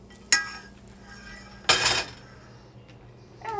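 A utensil knocks twice against a bowl while a stuffed mushroom filling with browned mushrooms and garlic is mixed, each sharp clink separated by quiet gaps and a faint clatter at the very end.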